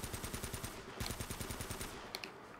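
Rapid automatic gunfire while shooting Nazi zombies in Uncharted 1 Remastered, a steady rattling burst of evenly spaced shots that stops shortly after two seconds, fairly faint.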